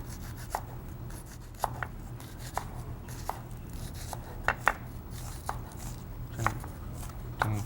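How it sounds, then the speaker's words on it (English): Garlic chopped with a knife on a cutting board for a Creole barbecued shrimp dish, giving a series of sharp, irregular taps over a low steady hum. "But we do want it chopped up fine because nobody really likes a big piece of garlic in their shrimp"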